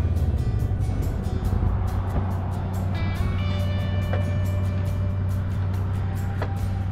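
ATVs and side-by-side off-road vehicles are pulled in and lined up at a trail stop, their engines holding a steady close idling hum with a few faint mechanical clicks and no talk.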